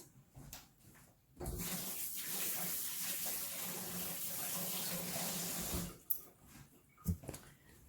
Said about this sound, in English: I'm going to rinse my hands.